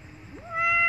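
An abandoned kitten that needs milk lets out one loud, drawn-out meow that rises in pitch and holds steady, close by and alone.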